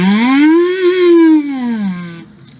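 A lip-buzzed siren glide blown into a soda bottle, a single continuous buzzy tone rising slowly then falling back down over about two seconds, close and fairly loud, with no talk.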